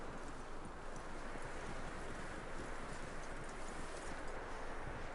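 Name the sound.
horse hooves clip-clopping in a video game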